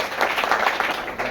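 Audience applause on a Kannada television quiz show, a steady, dense wash of many hands clapping at moderate loudness throughout, with no talking over it.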